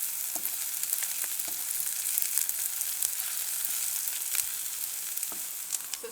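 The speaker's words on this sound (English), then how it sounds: "We're going to turn the heat on maximum till the onion and garlic are golden brown." Onion and garlic fry over maximum heat in a pan in a camper van kitchen, giving a steady, close hiss of sizzling oil with faint crackles and a few light stirring taps, no voices.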